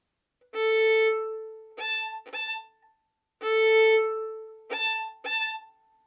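A violin plays bowed notes in a repeating pattern: one long stroke followed by two short ones, heard twice, clear and solo.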